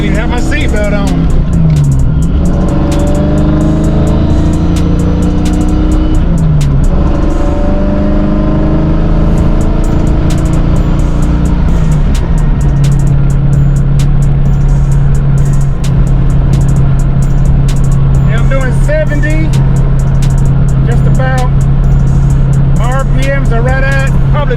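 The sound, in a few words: car engine running at about 2100 RPM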